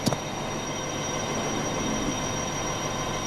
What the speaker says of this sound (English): Did the train go slow like decent?